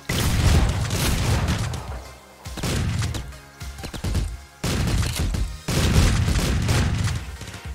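Gunfire and explosive bursts in the top-down action game Streets of Rogue, loud, dense bangs arriving in several heavy clusters separated by short lulls, with no talking.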